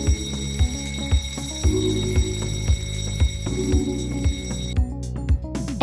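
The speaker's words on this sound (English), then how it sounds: "starts or stops the alarm sound accordingly." A repeating alarm in a Roblox Studio game sounds in a steady pulsing pattern, loud and close, with regular beeps recurring about every half second before cutting off near the end.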